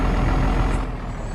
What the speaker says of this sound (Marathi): आपण ट्रकला हळूहळू चालू थोडं, कारण की ट्रकमध्ये लोड म्हणजे सामान जास्त असल्यामुळे आपण ट्रकला काही जोरात नाही चालू शकत